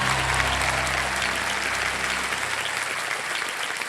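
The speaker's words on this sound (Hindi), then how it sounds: "तालियां बज जाए जोरदार एक बार फिर से देने के लिए।" Studio audience of Kaun Banega Crorepati season 15 applauding loudly and steadily, a dense wash of clapping with a low musical bed underneath that fades after the first second and a half.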